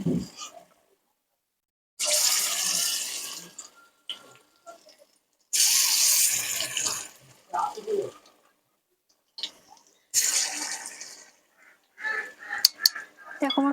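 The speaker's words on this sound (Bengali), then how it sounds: "এর মধ্যে মাছগুলোও দিয়ে দিয়েছি, দিয়ে একে একে গরম তেলের মধ্যে দিয়ে দিচ্ছি" Marinated fish pakoras in gram flour batter are dropped one by one into hot oil, giving several loud bursts of sizzling hiss separated by quiet gaps, with a few small clatters close by.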